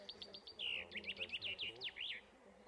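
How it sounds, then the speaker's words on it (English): A chaffinch sings in a spring forest: a lively, high trill of quick repeated notes that speeds into a run of sharp chirps and ends with a strong flourish, fairly faint against soft background hum. "This is a chaffinch."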